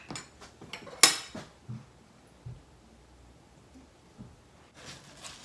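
Tuna and chickpea salad being mixed in a salad bowl, with a few sharp clinks of a utensil against the dish and soft scraping stirs, sparse and close, with quiet gaps between.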